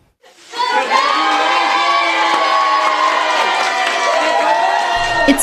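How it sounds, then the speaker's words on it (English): A crowd of colleagues and students bursts into loud cheering and shouting for a surprise, rising quickly and holding steady, with children's voices prominent in the roar. "It's still a surprise to Des Perkins when people stand up and cheer for her."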